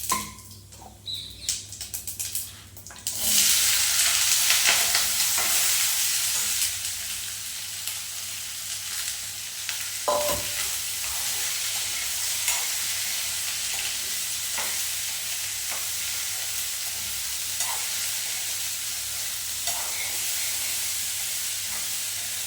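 Vegetables fry in oil in a pan on a gas stove, a steady close sizzle that holds for the whole stretch, with occasional stirring clinks and scrapes over the continuous hiss.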